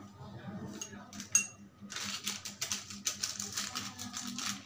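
A spoon scooping Ganoderma coffee powder into a cup for one serving: light metallic clinks and scraping taps against the cup rim, close and fairly quiet, with a faint steady hum beneath.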